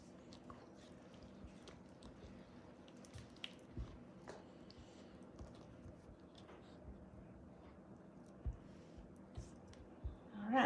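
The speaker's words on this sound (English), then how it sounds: "we're gonna stir that up real good." Milk is stirred into a sweet potato soufflé mixture with a spoon, giving faint, soft wet squishes and occasional light clicks and scrapes against the bowl.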